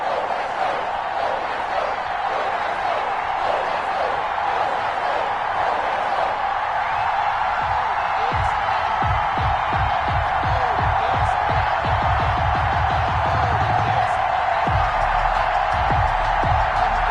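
Sold-out stadium crowd cheering in a Madden NFL game as the Patriots face the Dolphins, a steady distant roar that swells later with rhythmic thumping and clapping.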